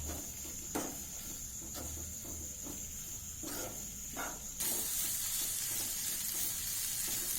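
Capsicum and boiled egg fry sautéing with coriander leaves in a pan: a steady close sizzle with occasional stirring scrapes, the hiss growing brighter and louder toward the end.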